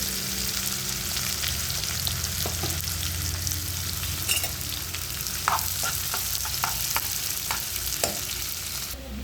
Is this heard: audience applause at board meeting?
no